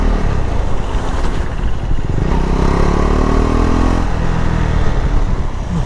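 A KTM 390 Adventure's single-cylinder engine pulls loudly while riding, pitch climbing and dropping through gear shifts over steady wind rush, close and continuous.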